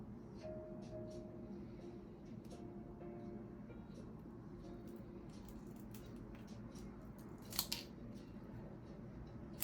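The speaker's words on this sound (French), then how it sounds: "C'est parti pour couper la tête du cigare." A cigar cutter snips off the head of a cigar in a quiet room, producing a faint, soft crisp click against low background noise.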